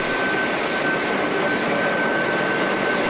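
A Queensland Railway 8650 class locomotive, a trial design with an unusual axle arrangement, gives off a steady, loud mechanical hum and rumble with a thin, constant whine, and no voices.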